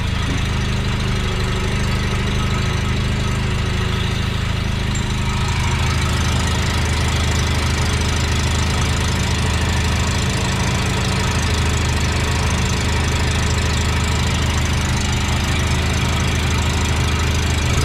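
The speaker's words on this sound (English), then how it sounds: "That's a vacuum leak somewhere. It's idling kind of high." A Mazda RX-7 FC rotary engine idles high with a vacuum leak, its steady low rumble and faint squeal running continuously up close, without talk.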